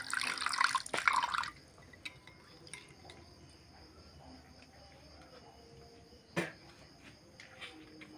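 A cup of milk is poured into a bowl with an egg, a short splashing trickle at the start, followed by quiet kitchen stillness and a single soft knock later on.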